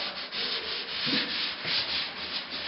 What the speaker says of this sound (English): sanding them smooth after the patch and fill is done.